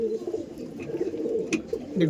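A pair of Madrasi pigeons, a male and a female, gives soft, low cooing at close range in short rolling phrases over about two seconds.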